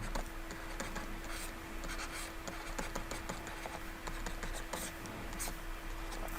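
Pen or pencil writing maths on paper, a continuous soft scratching with small strokes and taps running throughout, close and quiet, over a steady low hum.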